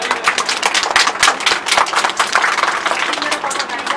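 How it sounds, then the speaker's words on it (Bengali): Children at an art academy prize distribution clapping together, a dense, fast patter of close handclaps lasting the whole stretch with no spoken words. "সবাই হাততালি"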